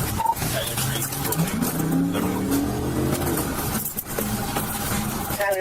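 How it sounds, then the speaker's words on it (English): A car speeds away during a police chase, its engine roaring and shifting pitch over steady road noise, with a voice briefly heard over it. "The suspect suddenly accelerated, driving at a crazy speed"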